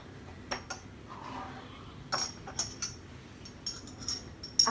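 A metal spoon clinks against the sides of a container while stirring food colouring into water for dyeing yarn, giving several light, sharp taps scattered through a quiet room.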